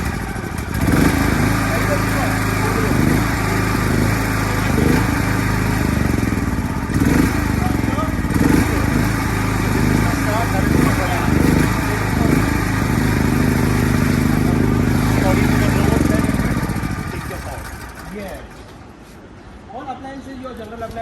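Small petrol generator, 1 to 5 kVA, started by battery and running with a loud close chugging engine drone that holds steady, then winds down near the end, with someone talking over it.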